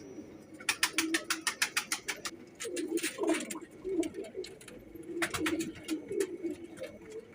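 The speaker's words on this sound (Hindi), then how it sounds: "ये मियाँ साहब वाले कबूतरों में से है" Several pigeons coo in low, overlapping murmurs within a loft of Miyan Sahib-line flying pigeons, broken by bursts of sharp rhythmic clicking or wing-clapping, all fairly close and steady without talk.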